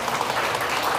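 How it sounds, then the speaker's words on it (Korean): Wedding guests clap in a brief, dense burst, a smooth wash of hands with no voices. "네, 여러분 큰 박수 부탁드리겠습니다."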